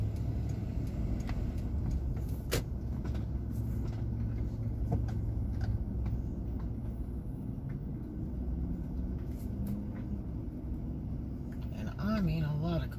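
A steady rumble of heavy road traffic near a beach park on Okaloosa Island, Florida, with many cars passing in a continuous wash of engine and tire noise, close and unbroken throughout.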